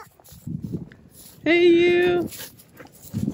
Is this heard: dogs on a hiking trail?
yes